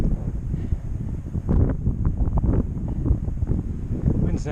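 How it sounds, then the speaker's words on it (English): Gusty wind buffets the microphone on a stormy winter mountain hike on Tehachapi Mountain with light snow flurries, a steady low roar with stronger surges throughout. "Wind's not too bad."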